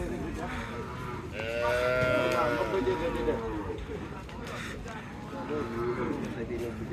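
Cattle low at a riverside Eid cattle market where cows are bathed in the river, one long drawn-out moo midway and a shorter one near the end, heard under steady crowd chatter and ambient noise.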